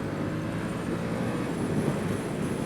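A 2022 Yamaha R7 motorcycle accelerates up through the gears on its quickshifter, a steady engine drone mixed with wind rush and rising whine, heard close from onboard without talking.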